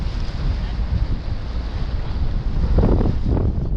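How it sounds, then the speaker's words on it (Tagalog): Constant rushing surf and wind buffeting the microphone beneath the Golden Gate Bridge, with strong waves surging louder toward the end. "Malakas ang alon."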